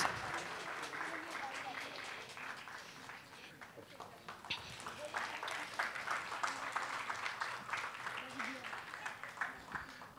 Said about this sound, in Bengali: একটা জোরে হাততালি দিয়ে শুরু হোক আজকের অনুষ্ঠান